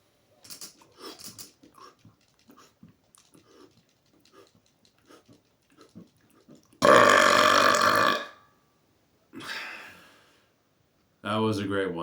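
A man with congestion lets out a long, loud, rough burp after some speaking, then a second shorter belch and a third raspy one follow with brief pauses between.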